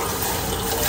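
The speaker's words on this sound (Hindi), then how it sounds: "अब इसमें पानी ऐड कर देते हैं।" Water poured into a pot of milk while making tea, a steady continuous liquid rush with no pauses, loud and close, with no voices over it.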